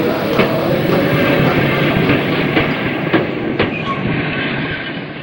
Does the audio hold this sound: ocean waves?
no